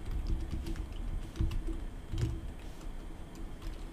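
Fingers tap a computer keyboard: a few soft, quiet keystrokes in small clusters, heard alone in a calm room without speech.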